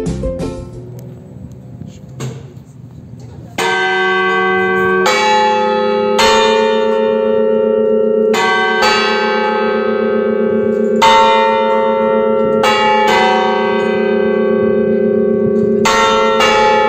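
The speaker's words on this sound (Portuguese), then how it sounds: "no horário que tocou o sino do meio-dia" Church bells of the Catedral de Pedra in Canela ring at noon, a sustained, loud peal with repeated strikes every second or two, each leaving long overlapping resonant tones, preceded by a few seconds of quieter ambient noise.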